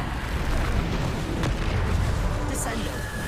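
Bombarda spell blasts in Hogwarts Legacy combat: deep booming impacts and crackling bursts layered over dense game noise, with a player speaking throughout.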